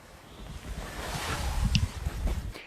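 Strong gusty winter wind blowing outdoors in snow at about 30 mph with stronger gusts, a loud broadband roar that swells and buffets the microphone, with no talk.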